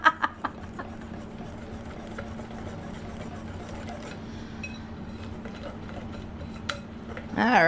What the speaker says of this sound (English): that whisked together pretty easily